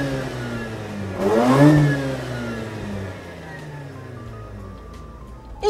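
Mazda RX-8 rotary engine idling at a traffic light, with one short rev that rises and falls, then a smooth, low, steady hum from close by.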